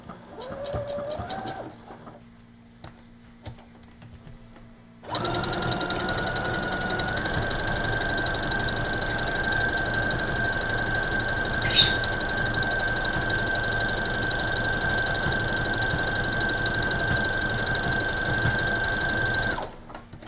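An electric sewing machine stitches over a hole in fabric, starting after a quiet pause and then running as a steady, fast mechanical whir with a rapid needle rhythm, close and continuous for about fifteen seconds.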